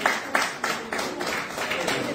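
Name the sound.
audience applause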